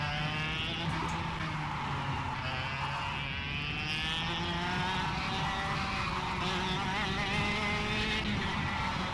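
Go-kart engine in the KartKraft racing sim on the Geelong circuit, a steady buzzing whine that rises and falls in pitch through the gears and corners, loud and continuous, with no talk.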